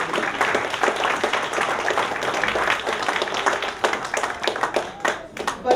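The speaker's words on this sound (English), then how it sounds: "Please give them a round of applause because they deserve it." An audience at a college advisory board celebration applauds for supporters, a dense, steady patter of many hands clapping that thins toward the end into scattered individual claps.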